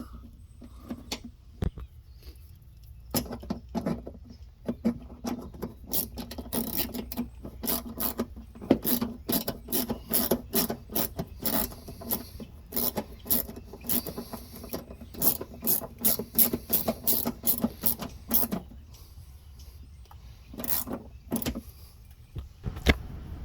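A ratchet loosening 10 mm bolts from the front bumper of a 2013-2016 Dodge Dart, rapid close clicking bursts of the pawl repeated in runs with short pauses between bolts.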